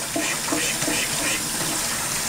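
Water splashes and sloshes in a pet monkey's bath, a close, continuous watery wash with soft rhythmic pulses as the water is moved about.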